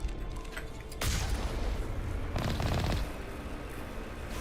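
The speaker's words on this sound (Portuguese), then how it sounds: "Lá vem o tiro, haha. Esquivei do tiro." Gunfire in the sci-fi shooter Mass Effect: Legendary Edition, two loud bursts of shots over steady game background noise, with no talking.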